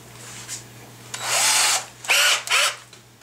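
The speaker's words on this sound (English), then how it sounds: "I want to drill some spotted holes in there" A power drill with a 1/16 inch bit drills pilot holes at a slight angle, fixing a sheet metal buttplate to a gun stock, in three short whirring bursts close by with no talking.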